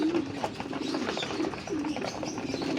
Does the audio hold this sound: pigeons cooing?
yes